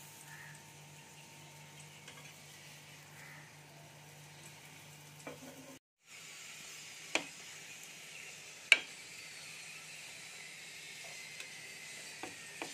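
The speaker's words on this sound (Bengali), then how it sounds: "এইভাবে গ্যাসের ফ্লেমটা মিডিয়াম রেখে প্রত্যেক কটা পরোটা আমি ভেজে নেব।" Potato paratha frying in a pan over a medium gas flame, a soft steady sizzle with a few faint clicks and taps, close and quiet.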